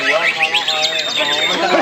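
Green leafbird chirps in a quick, lively string of bright, rising and falling whistled notes, close and fairly loud, running continuously throughout.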